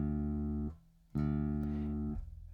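A Harley Benton MB-style kit bass plays a sustained D-string note with an odd, wrong tone. The note rings twice, broken by a short gap, close and clear with no talking.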